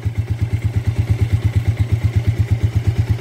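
A Mondial 150 motorcycle engine idling after a valve clearance adjustment: a loud, close, even thumping beat, steady and regular like clockwork, running alone without talk.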